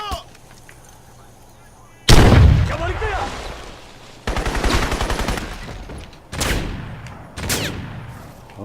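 A grenade explosion in the video game Crysis, a sudden loud blast with a decaying rumble, followed by further bursts of heavy gunfire and explosions in a firefight, after a quieter stretch at the start.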